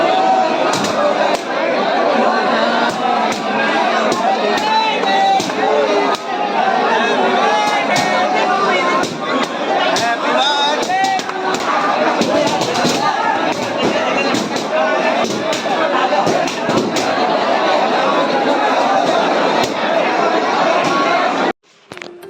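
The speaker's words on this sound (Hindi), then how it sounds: "अंदर भीड़ इतनी ज़्यादा है कि पैर रखने की जगह भी नहीं है" A dense crowd chatters at a Radha temple on Radhashtami, with many overlapping voices forming a loud, continuous babble that fills the whole stretch and stops abruptly at the end.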